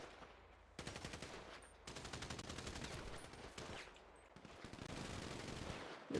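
Video game gang war gunfire: long bursts of rapid automatic shots in several sustained volleys with brief pauses between, loud and dense, no talking.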